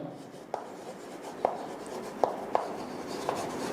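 Pen writing a chemistry definition by hand on paper: faint, continuous scratching with a few sharp taps spaced across the stretch, soft and close, with no voices.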